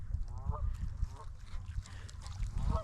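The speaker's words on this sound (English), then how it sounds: "We got some geese over there honking it up." Geese honking near fallen timber at a fishing spot, several distant calls spaced irregularly over quiet outdoor background.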